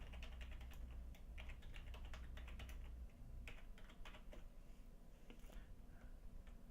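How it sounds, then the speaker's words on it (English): Rapid, steady clicking of computer keyboard keys fills the space, with a low hum under the first half that drops away midway. "so we can start typing"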